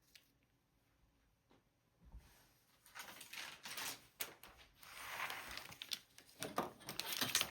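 Printer paper offcut strips being torn by hand, a run of papery rips and crinkles starting faint then growing louder and busier, close up with no talk.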